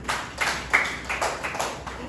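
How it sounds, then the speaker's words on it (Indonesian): Classroom applause for students presenting in front of the class, a short burst of scattered hand claps from a small group, close and fairly brisk, lasting about two seconds with no talk. "Berikan tepuk tangan untuk teman kalian di depan."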